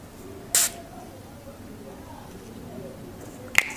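LA Girl drugstore setting spray with a coconut-like scent, given two quick hissing spritzes: one near the start and a shorter one just before the end, with a quiet room in between.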